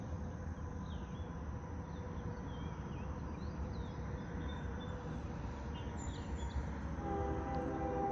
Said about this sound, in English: We got a train coming.